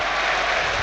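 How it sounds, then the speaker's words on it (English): A football crowd at an FA Cup match between Sheffield Wednesday and Cardiff City applauds as a player is substituted off, a dense, even wash of clapping from a distance, brief and without voices. "So Hekwa comes off, round of applause"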